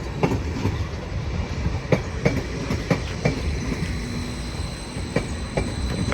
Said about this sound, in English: You could say it's a Greater Anglia 745 crossover.